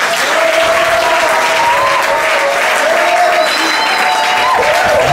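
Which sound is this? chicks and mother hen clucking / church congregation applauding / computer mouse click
church congregation applauding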